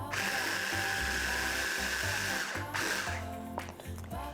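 A blender grinds fresh basil, a loud, close, steady whirring motor with rhythmic chopping pulses, then a short pause before it runs again.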